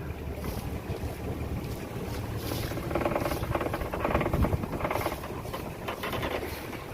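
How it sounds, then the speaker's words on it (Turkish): Wind buffets the microphone in gusty, rumbling waves along a coastline of bays near Elba, with a steady broadband rush rising and falling throughout; no voices. "Bugün rüzgar var."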